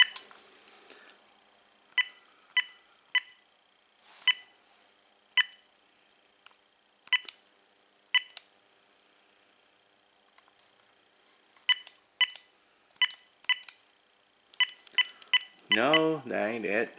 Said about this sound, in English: let's see, here's the ringtones.